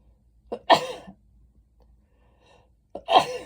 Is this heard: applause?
no